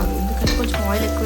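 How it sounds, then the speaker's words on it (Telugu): Gongura leaves tossed into a pan with onions and chillies, frying in oil with a brief, close hiss and sizzle that holds steady through the short moment. "ఇప్పుడు పుంటికూర వేసేసి ఫ్రై చేసేది కొంచెం ఆనియన్స్కి చిల్లీస్కి కొంచెం పట్టుకుంటే సరిపోతుంది."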